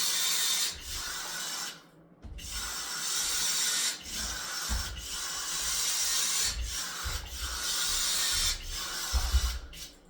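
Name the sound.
caulk gun applying caulk to screws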